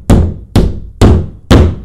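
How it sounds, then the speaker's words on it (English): A hammer drives an arrowhead-style drywall anchor into a wall, four loud, evenly spaced sharp blows about half a second apart, each ringing briefly before the next, close up with no talking. "this one you use a hammer, just kind of bang it on in there"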